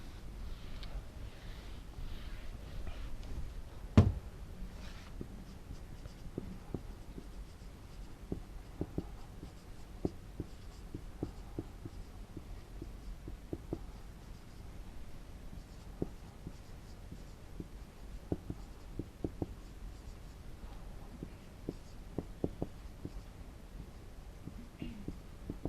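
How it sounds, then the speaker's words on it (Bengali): Writing on a board or paper during a business studies lesson produces soft, irregular scratches and taps that go on throughout, close and faint, with no talking. "একটু আমরা ইংরেজিতে লিখছি।"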